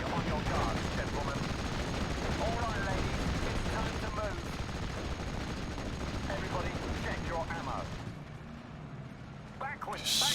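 Heavy artillery fire and explosions from the World War II strategy game Steel Division: Normandy 44, a dense continuous rumble of impacts and gunfire running under a talking voice, thinning briefly near the end.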